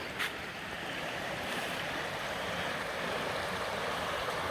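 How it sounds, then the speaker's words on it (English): Steady running water rushes continuously beside a campsite in July, a broad even wash of flowing sound with no talk over it. "Water running all the time."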